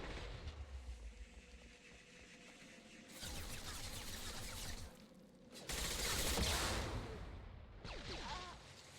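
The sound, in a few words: gunfire in the video game Mass Effect 2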